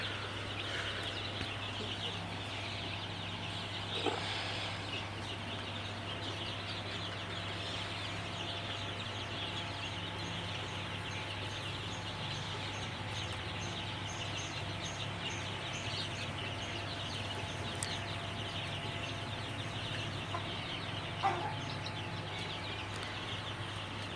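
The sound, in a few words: chicken chicks cheeping and clucking on a farm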